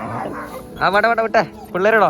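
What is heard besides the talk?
dog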